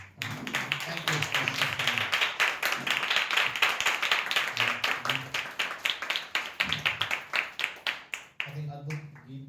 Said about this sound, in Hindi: क्यों ना हम परमेश्वर के लिए तालियां बजाएं